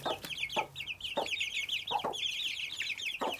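One-month-old chicks, frightened, give a steady stream of high, rapid peeping chirps near the mic, punctuated by several louder clucking bursts from a hen protecting them.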